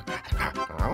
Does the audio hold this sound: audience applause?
no